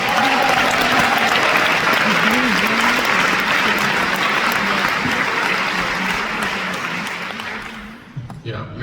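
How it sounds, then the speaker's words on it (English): A large audience at a Zinzino company event in Stuttgart claps in a loud, dense burst lasting several seconds, with a voice speaking underneath, then fades out abruptly near the end. "Yeah, you're clapping"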